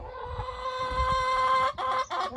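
Chickens cluck and call inside a low backyard coop, close and fairly loud, with overlapping squawks and a few sharper notes near the end.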